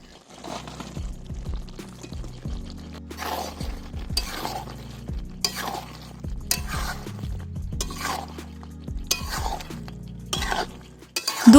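Metal spoon stirring fried chicken pieces into thick chili chicken gravy in a pan, with repeated scraping strokes, clinks against the pan and a soft sizzle, close and steady.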